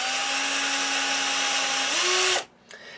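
Close, loud whine of a power drill boring a pilot hole into a bass guitar body, holding a steady pitch before rising briefly and then cutting off, followed by a short faint clatter. Nobody talks.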